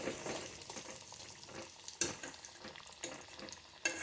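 Shrimp cutlets frying in hot mustard oil, a soft close sizzle with intermittent stirring clinks and scrapes, fairly quiet.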